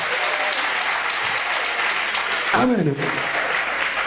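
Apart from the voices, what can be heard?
congregation applauding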